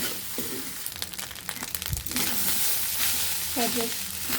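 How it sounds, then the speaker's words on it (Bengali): Leftover-rice fried rice sizzles in a pan while being stirred and tossed, a close continuous frying hiss broken by scraping spatula strokes and clinks, growing louder in the second half. "আমরা এভাবে 1 থেকে 2 মিনিটের মতো ভালোভাবে নেড়ে চেড়ে নেব"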